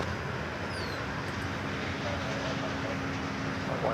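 An American Airlines jet takes off at Dallas/Fort Worth airport, a steady, fairly distant engine roar and rumble that holds at an even level throughout, with a faint tonal whine above it.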